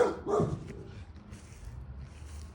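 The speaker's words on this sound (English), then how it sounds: "Got some doggies running around." A dog gives a short bark or yelp near the start in the fenced back yard of a house, then quiet outdoor ambience follows.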